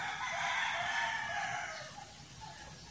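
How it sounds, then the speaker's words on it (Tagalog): A rooster crows loudly and steadily nearby, a drawn-out call over a constant background hiss, with other chickens faintly present. "Grabe nga manok."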